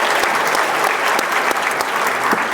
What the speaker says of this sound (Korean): 우리 한 번 또 박수 치고 갈까요?